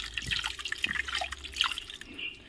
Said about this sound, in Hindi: पहला टिके पानी दे देबो